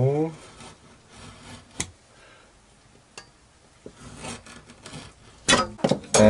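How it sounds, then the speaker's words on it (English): A chisel scraping and paring a shallow groove in wood for a homemade marking gauge, close up, with scattered rubbing strokes and a few sharper knocks toward the end. "And I chisel this out just in the thickness of the ruler."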